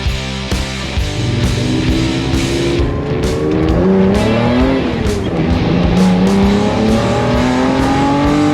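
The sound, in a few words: 1974 Datsun 240K Kermeri tribute car, 300 hp L Series engine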